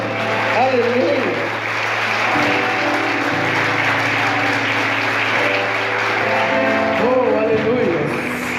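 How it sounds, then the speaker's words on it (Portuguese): Congregation applauding in a church service, a steady, fairly loud clatter of clapping, with voices and sung or sustained tones running underneath. "Você pode aplaudir ao Senhor"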